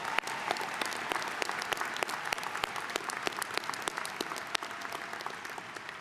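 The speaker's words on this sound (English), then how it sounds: "Will the audience please join me in applauding these honors graduates and honors candidates?" A commencement audience applauds the honors graduates and candidates with steady, dense clapping from a large crowd, full and even throughout.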